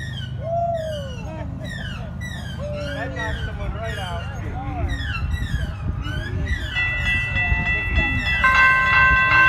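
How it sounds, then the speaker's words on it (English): A BNSF intermodal freight train rolls past a crossing with a high-pitched Safetran type 3E bell clanging rapidly and continuously, loud and close, under the rumble of the cars; a sustained horn-like tone enters near the end. "Oh, it's an intermodal train."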